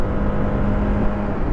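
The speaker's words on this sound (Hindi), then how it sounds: "इसका एग्जॉस्ट भी इतना सही लग रहा है ना," Apache RR310 BS6 motorcycle exhaust, a steady deep bassy engine drone with a constant low hum, loud and close, running alone without any talk.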